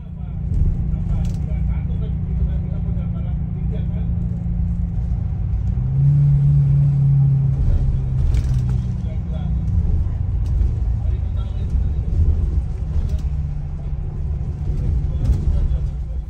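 A low, steady engine rumble from an Unicorn Indorent bus on the road between Jogja and Jakarta, heard from inside the cabin as a continuous drone with a brief swell midway.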